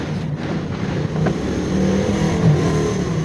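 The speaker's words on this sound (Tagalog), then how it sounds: "mga dumadaan na sasakyan na may mga tuktok" Steady rumble of roadside traffic rolling past nearby, vehicles honking, a continuous low engine drone with a slight swell as a vehicle goes by.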